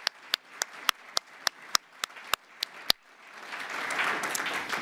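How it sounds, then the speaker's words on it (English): An audience applauds for the Vice President at a White House Lunar New Year event for Asian Americans and Pacific Islanders, starting with a few sharp, evenly spaced claps that swell into a steady wash of clapping from the crowd. "If you can all just give another round of applause for the Vice President of the United States."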